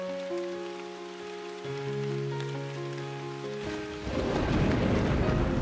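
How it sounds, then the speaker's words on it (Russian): A thunderstorm brings steady rain, then a deep rolling crash of thunder and heavier downpour near the end, with a soft musical tone underneath. "Ой, да это же гроза!"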